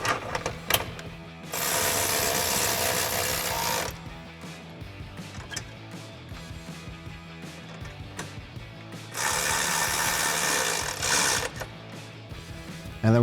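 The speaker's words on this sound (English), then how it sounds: "we'll grab a 16mm socket to tighten those down" A ratchet wrench with a 16mm socket tightens bolts on a Jeep Wrangler JL rear bumper, giving two bursts of rapid close clicking separated by quieter handling noises and brief metallic taps.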